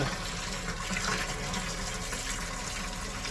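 A brewery pump pushes water into an empty bucket, a steady continuous rush and gush of liquid filling the container, close and unbroken throughout with no talking.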